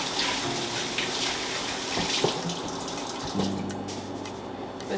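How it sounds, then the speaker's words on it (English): A kitchen tap runs steadily while hands are washed beneath it, a continuous close splashing rush with small shifts in tone as the flow is interrupted. "I'm gonna wash my hands."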